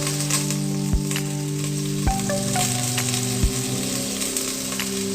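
Beef browning in a hot stir-fry pan for a Chinese vegetable and meat dish, a steady close sizzle of frying with a few sharp spatula knocks and a faint background hum, no talking.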